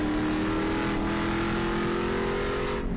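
A sports car in a 2023 WRL endurance race at Road Atlanta roars steadily past at full throttle, a loud, continuous engine drone with a slight pitch change near the end.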